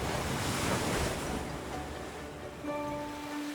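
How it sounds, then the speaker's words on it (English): Ocean waves wash in a steady, full rush of surf with a breezy hiss, constant and fairly loud, as if heard through a seashell held to the ear; a faint tonal hum enters near the end. "I hear the ocean."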